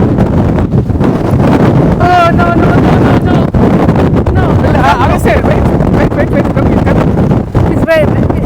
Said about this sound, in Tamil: காற்று பயங்கர காற்று